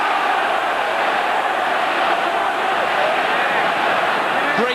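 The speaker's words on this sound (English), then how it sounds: "And now the crowd right behind England." Rugby crowd at a 1997 England versus South Africa match in London cheering England on, a dense, loud, continuous roar of many voices with no breaks.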